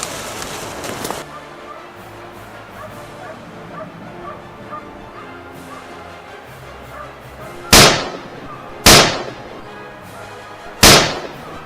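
Three sharp, loud gunshots fired at a wild boar on a dry brushy Texas hillside, spaced about a second or two apart after a stretch of low outdoor rustle and background noise.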